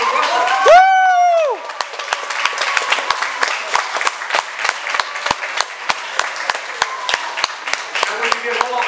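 Audience at a county fair baby pageant breaks into applause and cheers after a loud whoop, clapping continuing steadily and fairly close with scattered voices underneath.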